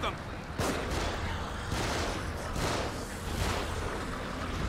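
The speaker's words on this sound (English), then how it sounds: "I am shooting the barrel" Gunshots fired at a barrel in The Evil Within come as several sharp, broadband bursts spaced about a second apart over a steady low rumble, fairly quiet overall.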